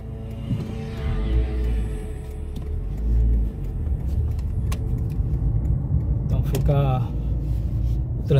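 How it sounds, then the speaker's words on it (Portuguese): Heavy rush-hour traffic streams past in Leiria, Portugal, a constant loud rumble of car engines with some revving, while a person talks over the noise. "É muito carro passando nessa hora que o pessoal tá largando."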